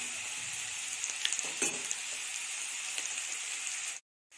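Garlic, cumin and dried green chili fry in hot oil for an okra curry, giving a constant close sizzle with a few sharp crackles. The sizzle stops abruptly just before the end.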